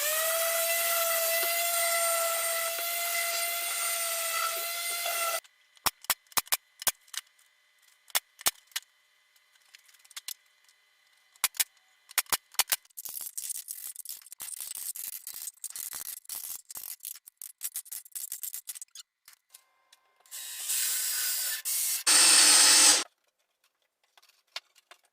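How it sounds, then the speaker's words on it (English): A hand tool chamfers the edges of a wooden board in a workshop, heard as scattered short scraping and rasping strokes in uneven bursts. A steady whistling tone sounds at the start, and a louder stretch of noise comes near the end. "I'm just going to kind of randomly chamfer these edges with this"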